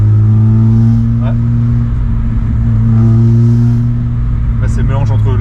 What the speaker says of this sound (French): Là c'est le mélange entre l'induction et le pot.